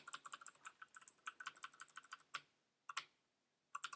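Rapid bursts of keystrokes clatter on a computer keyboard while code is written, quick uneven runs of crisp clicks broken by short pauses and a few isolated taps, close and fairly quiet with no talking.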